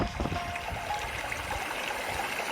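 Oak Creek flowing past Cathedral Rock at Red Rock Crossing in Sedona, Arizona, a steady broadband rush and trickle of moving water, continuous and fairly close, with no talking.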